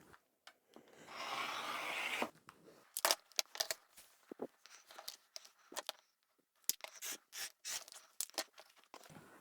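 Scissors cutting lining fabric for a drawstring backpack: a longer rough rasp of blades through cloth followed by a series of short crisp snips and rustles, close and fairly quiet.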